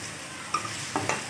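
Okra (bhindi) fries on a low flame for dhaba-style masala bhindi: a soft steady sizzle punctuated by two or three quick spatula scrapes against the pan, close by and with no talking.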